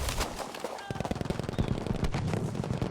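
Rapid automatic gunfire in the Battlefield 5 multiplayer match, a quick burst of closely spaced shots starting a second in and continuing as dense, loud crackling fire with scattered reports.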